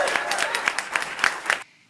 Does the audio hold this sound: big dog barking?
no